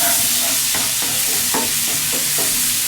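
Chopped garlic sautéing in butter in a pan, a steady close hiss of frying broken by a few soft scraping stirs at irregular intervals, with no voices.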